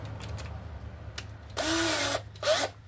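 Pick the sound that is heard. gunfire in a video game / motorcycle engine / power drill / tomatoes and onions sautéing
power drill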